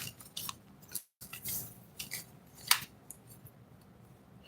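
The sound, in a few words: tarot cards being shuffled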